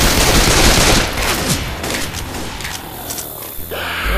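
Rapid gunfire in the zombie shooter Left 4 Dead 2, a loud rattling stream of shots that thins out into scattered bursts before a mechanical clunk near the end.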